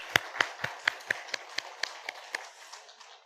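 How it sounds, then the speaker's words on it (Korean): A church congregation applauds during a Sunday service, sounding as a quick run of about a dozen sharp, evenly spaced claps that soften and thin out toward the end, faint and without talk. "박수하겠습니다."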